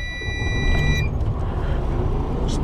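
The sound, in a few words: 2012 Freightliner Cascadia diesel truck engine starting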